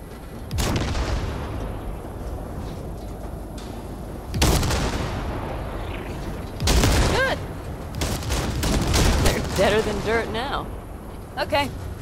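Heavy gunfire blasts at wrecks during a highway chase in Cyberpunk 2077, loud bursts and explosive booms in several waves, with shouting voices in between.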